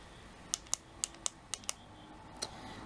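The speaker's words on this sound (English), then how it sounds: "you just basically push this little pen, the little thing down, and you can hear it click" A MAC concealer pen gives a quick run of sharp, close clicks as its end is pushed down, about seven crisp taps in a quiet room.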